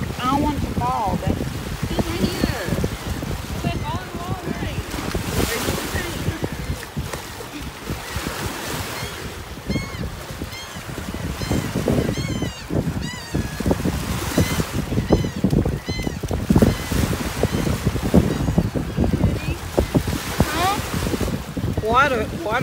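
Lake water sloshing and washing onto the shore at a lakefront, a steady broadband wash with gusty wind buffeting the microphone throughout, while people talk intermittently nearby.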